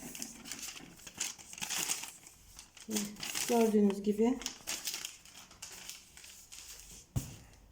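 Plastic packaging bags from a first-order parcel of detergent products crinkle and rustle as they are opened, loudest in the middle of the clip, while a person talks over it.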